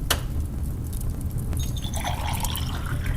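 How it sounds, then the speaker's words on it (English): Red wine is poured into a glass, a quiet liquid trickle and soft glassy ring close up, with a light tap at the start and no voices. "Allow me to pour you a glass"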